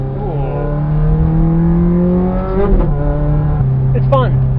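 A Ferrari F430 V8 with a Fabspeed exhaust pulls hard nearby, its loud droning note climbing steadily, breaking at a gear change and then rising again, with a voice briefly over it.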